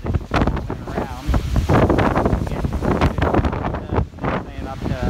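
Strong gusts from Typhoon Trami batter Okinawa, a loud continuous roaring buffet across the microphone that rises and falls in surges, close and harsh throughout.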